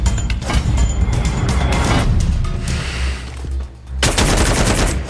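Sustained video game gunfire in Free Fire, loud and continuous, with rapid overlapping shots and bursts filling the clip and a brief dip near the end before the firing resumes.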